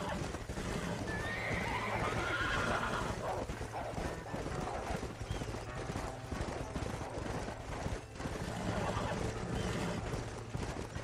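A horse whinnies amid busy, dense game noise in Red Dead Redemption on PS3, with hoof clip-clop and rumbling in the background, fairly loud throughout.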